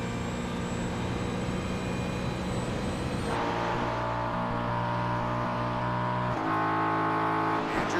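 Porsche and Ford GT race cars in a sim racing game at VIR, engines droning steadily with sustained harmonic tones that shift in pitch partway through, loud and continuous with no talk.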